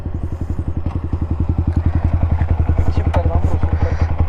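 A Yamaha R15 motorcycle engine pulses in a rapid, even, loud thumping rhythm up close as it is ridden, with faint voices in the background.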